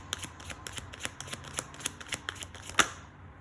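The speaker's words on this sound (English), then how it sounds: "Last shuffle before we close this out." A deck of cards is shuffled during a tarot-style reading, giving a run of crisp riffling flutters and light slaps in quick irregular bursts, close and clear, ending with one sharper snap.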